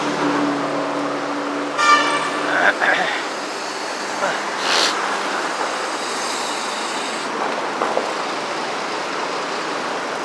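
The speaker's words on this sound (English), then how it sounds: "And of course, that one is LRT." A light rail train passes through the busy Bukit Bintang district of Kuala Lumpur, its wheels squealing briefly and rumbling over a steady roar of city traffic, with voices in the background.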